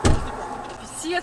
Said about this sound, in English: the Volkswagen owner opens the trunk of his vehicle and reaches for a golf club